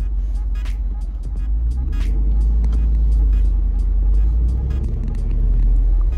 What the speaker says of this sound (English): So let's get the car up to 8 miles an hour.